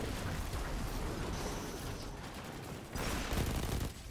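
Rapid gunfire in the video game Destiny 2 during a raid, a dense continuous barrage with a brief lull and then a louder burst near the end.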